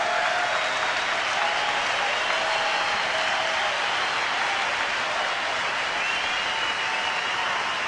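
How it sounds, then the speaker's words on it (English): A baseball crowd gives pitcher Derek Holland a steady, sustained ovation of clapping and cheering that fills the stadium at an even, loud level throughout. "what a nice ovation he'll get"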